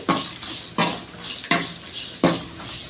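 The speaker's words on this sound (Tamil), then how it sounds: "ஒரு கைப்பிடி அளவு பெரிய வெங்காயம். இதையும் சேர்த்து நல்லா வதக்கிக்கணுங்க." Large onions being sautéed in a pan for Chettinad chicken, with four evenly spaced scrapes of a spoon against the pan over a soft continuous sizzle, close and fairly loud, no talking.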